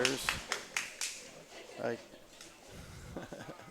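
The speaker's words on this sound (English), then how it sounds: "It was just clapping, but clapping and waving." A bowler at the Ebonite Fall Classic bowling tournament finals claps his hands, a few sharp, close claps spread over several seconds while commentators keep talking over the noise of the lanes.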